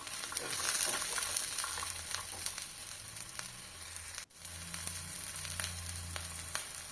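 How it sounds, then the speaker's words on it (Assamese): Onions and cut brinjal sizzle steadily in oil on a tawa, a close continuous frying hiss with occasional stirring scrapes and no talk. "আৰু এতিয়া মই তাৱাখনতে পিঁয়াজ দি ল'লোঁ আৰু কাটি লোৱা বেঙেনাখিনি দি দিছোঁ।"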